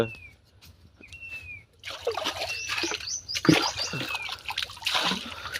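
Water splashes and trickles in uneven bursts while someone takes a drink out in farm fields, with a few thin bird whistles heard beforehand in the quiet open air.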